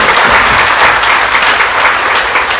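A crowd claps loudly and continuously at a motivational talk, a dense, even wash of applause for the whole short stretch.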